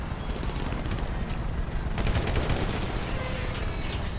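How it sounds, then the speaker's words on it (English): Sustained gunfire in the GTA 5 video game, a dense continuous fusillade of rapid shots with a heavier burst midway, loud and without talk. "The one on the right still shooting at me."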